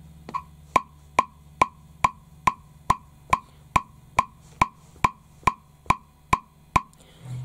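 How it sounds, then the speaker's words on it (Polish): Phone metronome app set to 4/4 at tempo 140: a long run of identical, evenly spaced sharp ticks with no accent, close and clean, and nothing else heard over the steady pulse. "Metronom brzmi tak."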